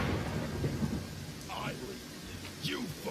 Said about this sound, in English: the lightning is striking very close to our group